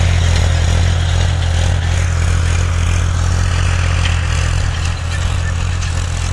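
A tractor engine runs steadily in a farm field, a loud continuous low mechanical rumble with clattering texture heard close by and no talking.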